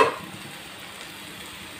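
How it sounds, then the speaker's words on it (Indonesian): Fried chicken being stirred into a dry rendang spice paste in a pan gives a short scrape followed by a soft, steady sizzle. "Kita gaul rata-rata ayam ni."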